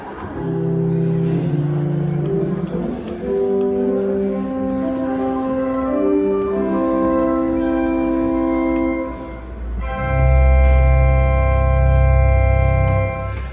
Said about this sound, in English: Let's start on the first stop on the grate, which is a 16-foot, and it is a contra Geigen